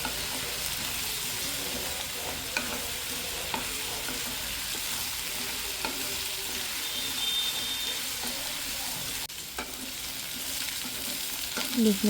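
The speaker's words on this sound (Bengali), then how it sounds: "আলুগুলো ভেজে নেব" Potato pieces, cut from a large halved potato, fry lightly in oil in a wok for a bean and potato dish, a constant close sizzle with faint spatters and a few stirring scrapes, louder clatter near the end.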